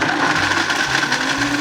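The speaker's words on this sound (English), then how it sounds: "I will commence blending." A countertop blender whirs continuously at high speed as it blends coconut pieces with water, a steady loud motor whine with no pauses from start to finish.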